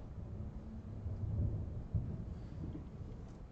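Rain with rolling thunder during an outdoor painting session, a low rumble swelling and fading over steady soft rainfall, with a sharper thump near the middle.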